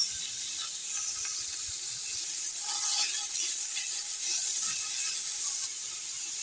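Samosa filling of shredded cabbage, boiled shredded chicken, coriander, green onion leaves, salt, black pepper and soy sauce sizzles steadily in a pan, with faint scraping and clicking of stirring throughout and no talk.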